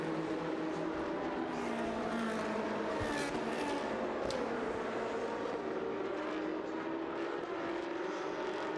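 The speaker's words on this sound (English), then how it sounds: "So the cars are away on their formation lap now." Race cars on a formation lap at Mugello during a Trofeo Pirelli race, their engines droning from a distance and shifting in pitch as they move, continuous and fairly faint under open-air ambience.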